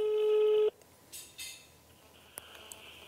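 A telephone line sounds during a live broadcast redial: a steady tone stops abruptly, followed by a few faint clicks and short electronic blips.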